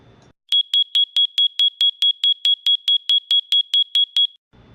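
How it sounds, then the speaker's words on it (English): A portable gas monitor alarm sounds during calibration, emitting a rapid, regular series of about seventeen loud, piercing beeps, evenly spaced and alone, before stopping. "If the measured levels exceed the monitor's programmed threshold, this alarm should sound."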